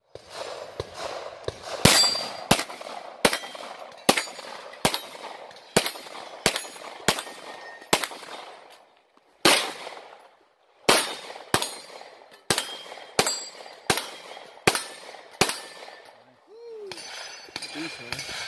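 Rapid pistol shots from a Glock 17 and an M&P Pro 9mm ring steel targets outdoors, around twenty sharp cracks, each followed by a metallic clang and ringing decay, in quick bursts with a brief pause midway and a short voice at the end.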